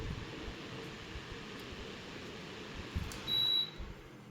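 An Equation 40cm 45W wall fan runs steadily, producing a soft, even whoosh of moving air with a faint hum, broken briefly by a few small clicks and a short high beep.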